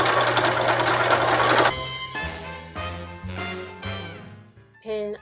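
A sewing machine with a walking foot runs a long basting stitch, humming steadily at speed, then slowing into distinct separate needle strokes, loud and close with no voices.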